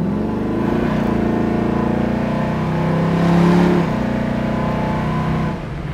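A 1966 Ford Mustang engine pulls hard under acceleration on the road, a steady loud drone that swells to a peak near the middle before easing back, close and continuous with no talk.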